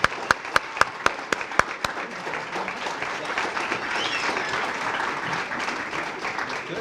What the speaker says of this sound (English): So let's have a round of applause for these graduates once again,